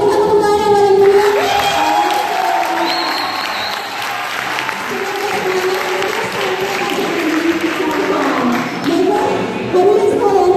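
Audience at a book launch event breaking into sustained applause with some cheering, a dense crowd clapping for most of the stretch while a voice carries over it.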